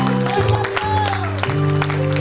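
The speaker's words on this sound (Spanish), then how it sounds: "Santo, denle ese aplauso al Rey de Reyes." A church congregation applauds during a Spanish-language service, a steady wash of clapping from a crowd that runs the whole time beneath a preacher's amplified voice and tonal background music.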